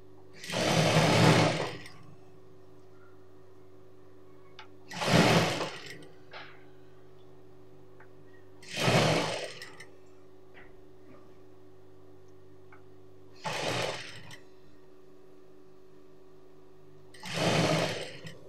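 Sewing machine stitching a churidar pant in five separate short runs, each a dense mechanical whir of about a second, separated by quiet pauses, heard close up with no speech.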